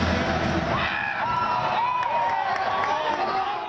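A sold-out crowd at a college men's hockey game, UMass against Boston University at the Mullen Center, keeps up a steady roar of cheering with whoops rising over the dense crowd noise.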